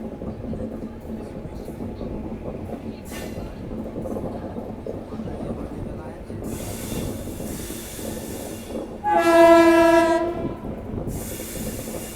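A train on an overnight Indore to Gwalior run nears Shahjahanpur railway station, with a constant rumble and rattle of wheels on track. Near the end a loud horn sounds for about a second, with faint voices in the background.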